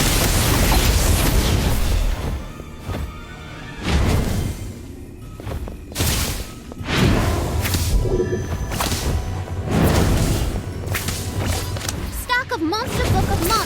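In a Harry Potter video game, a Confringo blasting spell sets off booming explosions with whooshing bursts and thuds, thick within a dense, loud action mix while voices speak over it.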